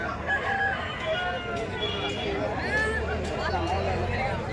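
Roosters of the Kundarapalli breed crow repeatedly amid a busy market, their long calls overlapping with clucking hens, steady crowd babble and nearby voices.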